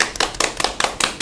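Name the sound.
applause, hands clapping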